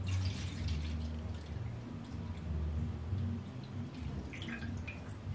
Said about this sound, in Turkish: Sıra bunun tamamını deterjan gözüne boşaltmak.